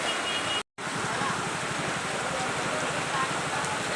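Steady rainfall during the rainy season, a dense continuous hiss of drops with a brief dropout near the start, fairly close and even throughout.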